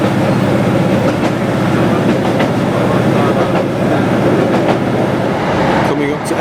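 Ravenglass and Eskdale Railway train running at speed toward Eskmeals viaduct, a loud steady rumble with rhythmic wheel clicks on the rails, heard from aboard, with voices talking over it.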